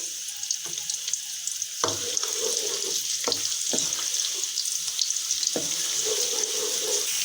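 Onions fry in about a cup of hot oil in a kadai, giving a steady bright sizzle. Several sharp knocks of a stirring spoon land against the pan, close up, with no voices.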